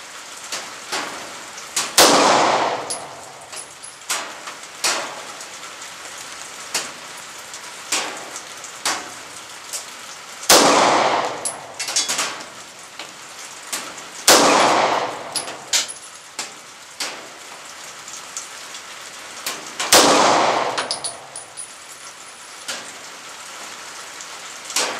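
Four loud, sharp gunshots from a Smith & Wesson 6906 compact 9mm pistol ring out several seconds apart over steady rain pattering on surfaces, each shot trailing off in a brief echo.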